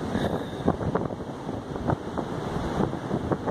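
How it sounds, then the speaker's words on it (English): Ocean waves break and wash along the Oregon coast in a series of rolling surges, heard close and fairly loud beneath heavy wind buffeting the microphone. "Look at those waves."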